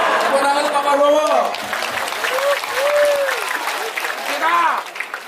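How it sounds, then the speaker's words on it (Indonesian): Audience applause at an evening gathering, moderately loud and steady for about five seconds, with voices and musical tones sounding over the clapping. "Tepuk tangan untuk Pak Prabowo."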